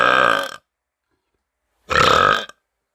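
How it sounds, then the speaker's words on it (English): Two loud, long human burps, each raspy and about half a second long, separated by more than a second of silence, close and alone. "here's one of my loud burps"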